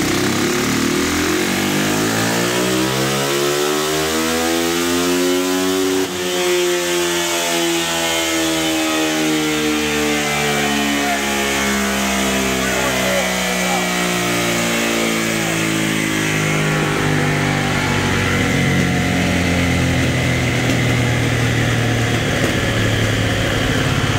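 A 2021 Yamaha YZ450F four-stroke motocross engine runs on a Dynojet dyno, its loud exhaust revving up in a rising sweep to about six seconds, then holding a steady high-rpm drone that gradually eases for the rest of the run.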